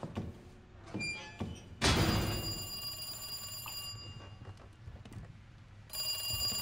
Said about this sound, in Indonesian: Itu kok ada telepon bunyi?